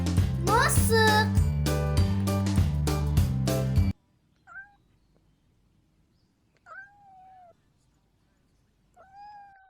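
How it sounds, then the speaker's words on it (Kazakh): After a brief musical jingle, a cat meows three times, well spaced and clear against near silence. "Мысық."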